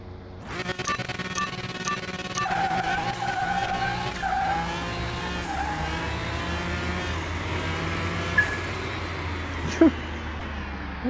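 A race car in Car Mechanic Simulator 2021 speeding around a track, with a sustained engine drone, tires squealing and skidding through corners, and a couple of sharp bumps near the end, while someone talks over it.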